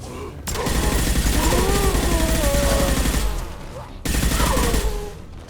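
Rapid pistol and SMG gunfire rattles through a Mass Effect 2 firefight, loud and sustained, with a brief lull before another burst.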